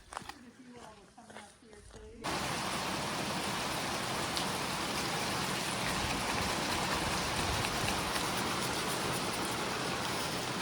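Steady rain falls at Hurricane Mountain Shelter on the Appalachian Trail near Grayson Highlands, a dense, even hiss arriving abruptly after a few seconds of quieter sounds and holding loud and unbroken to the end.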